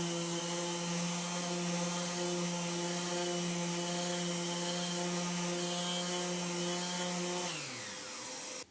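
A Makita random orbital sander runs at top speed with 80-grit paper on veneer over chipboard, a loud, steady motor whine with strong buzzing overtones that drops in pitch and winds down in the final second.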